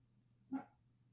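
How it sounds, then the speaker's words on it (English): A dog lets out one short, single bark, fairly close, against a quiet low background hum. "Who do you think you're yelling at, dog?"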